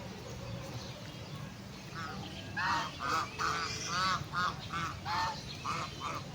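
Ducks or geese honk and quack in a short burst of repeated calls, fairly near, over an outdoor background hum with some faint voices.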